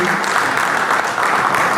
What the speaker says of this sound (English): Let's give everyone a round of applause for being here